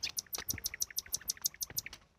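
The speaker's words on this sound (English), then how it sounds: "We also seem to be followed by, I say this bird, it's probably not the same one" A bird calls outdoors in a rapid series of about a dozen bright, evenly spaced chirps, fairly near and clear, then trailing off.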